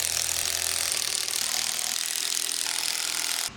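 A hand ratchet clicks rapidly and steadily while tightening trailer suspension components underneath the trailer, loud and close, then stops abruptly at the end.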